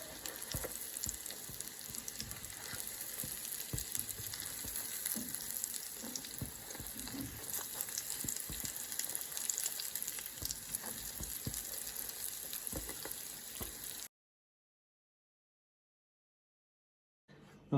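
Potato dish frying in a pan, a steady, moderately quiet sizzle with small pops and crackles running for about fourteen seconds, then silence.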